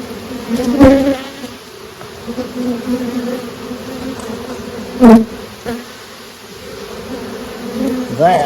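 A small honey bee swarm drones close by during a hive inspection, a steady buzzing hum with individual bees flying past the microphone, swelling louder at moments.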